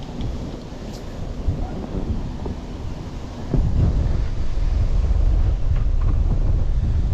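Strong wind on a tidal river in Florida during a fishing trip, roaring and buffeting the microphone in a loud, continuous low rumble that grows heavier partway through.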